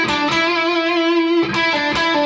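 Distorted electric guitar in standard tuning plays the opening lick of a solo: a few picked notes, a long sustained wide bend, then more quick picked notes, loud and close.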